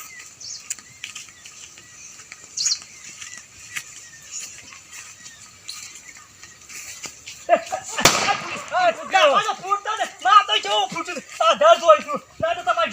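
A big firecracker bomb bursts during Dev Diwali celebrations. One sharp, loud bang cracks out after a quiet stretch of faint rustling, and lively voices and laughter follow right after.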